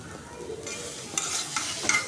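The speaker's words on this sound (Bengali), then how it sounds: "আমি ভালোভাবে কষলাই নিতেছি" Mashed taro with salt being stirred in a pan, a soft sizzle with scraping spatula strokes and a few sharper clinks, close and fairly quiet.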